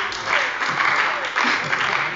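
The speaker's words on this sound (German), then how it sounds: "So schnell kann man fraktionsübergreifend Applaus bekommen." Cross-party applause in a parliament plenary session, a sustained patter of many hands clapping in a large hall, fairly loud and steady.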